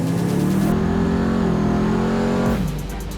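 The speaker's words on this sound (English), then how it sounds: "this is my 1964 EH Holden" A 1964 EH Holden car engine revs hard and close, holding a loud steady drone before the pitch drops sharply as the throttle comes off.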